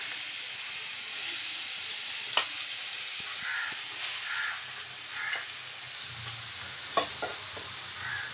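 Chopped raw papaya (amruta bhanda) frying with cumin in hot oil for an Odia home-style papaya curry, a steady broadband sizzle with occasional sharp clicks of stirring and pops, close and moderately loud, with no talking.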